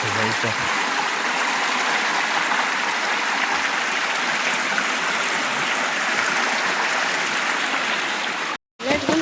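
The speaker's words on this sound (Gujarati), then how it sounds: "કુંડીમાં પાણી જાય ને" Motor-pumped water pours steadily into a flower pot with a loud, continuous rushing hiss that cuts out briefly near the end.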